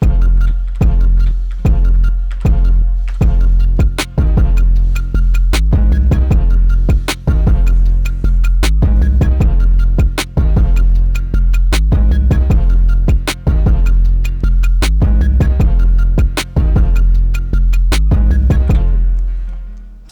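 A Memphis juke-style beat programmed on an MPC thumps loudly with deep booming bass and punchy drum hits in a fast, driving repetitive pattern, with no voices over it.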